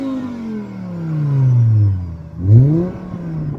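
A 1998 Volvo naturally aspirated five-cylinder engine with a modified, damaged exhaust revs up in two loud swelling pulls, the second sharper, before settling back to a rumbling idle, heard close and alone.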